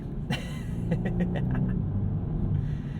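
A 2022 BMW 230i launching hard under launch control, a brief rising engine roar with a deep rumble building over a few seconds, close and strong.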